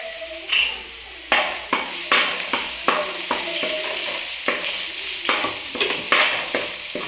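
Chopped garlic, ginger and green chillies sizzling in hot oil for veg manchurian, a steady loud fry broken by repeated spoon clanks against the pan as it is stirred.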